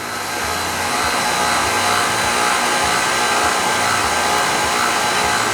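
An electric mixer runs steadily while creaming butter for cookies, a loud, close, continuous whirring drone with a faint rhythmic thump underneath, with no voices.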